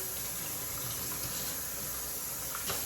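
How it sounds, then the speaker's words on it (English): Water runs steadily from a tap while doll hair is rinsed, a soft, even hiss of flow at low volume with no talking over it. "So we're just going to let the water out. Okay, letting all that water out. And we're gonna use a little cold water."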